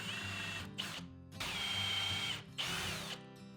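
A power drill whirs in several bursts, spinning up and cutting out, with brief pauses between runs as a 1/2 inch bit bores into wood.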